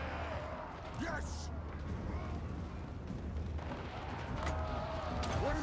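Ranged artillery volleys from dwarf war machines in the fantasy strategy game Total War: Warhammer 3, a dense rumbling barrage of booms and bursts layered with battle noise and a voice talking throughout.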